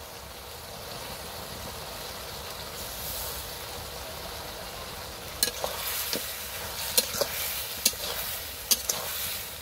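Bajila fish and potatoes fry in a pan with a steady hiss and sizzle, joined midway by sharp clicks and scrapes of a spoon stirring against the metal.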